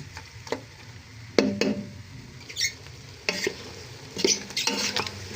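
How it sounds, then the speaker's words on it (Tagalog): Dinuguan pork frying in its own rendered fat as the water cooks off, giving soft popping and sputtering crackles with a few sharper stirring clatters of a utensil against the pan, steady and close. "kapag natutuyuan na siya, pumipitik-pitik na yung sarili niyang mantika"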